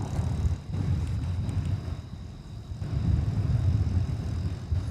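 Airplane landing on runway 18 left at DFW Airport, a steady, moderately distant jet roar with a faint high whine, rising slightly toward the end.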